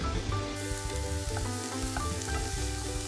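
Diced white onions hit hot oil in a pan and sizzle steadily with crackling pops, fairly close and continuous, with no talk.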